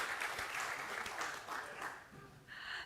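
A crowd claps steadily at a New Orleans second line talk, a dense wash of many hands, fading slightly before picking up again at the end.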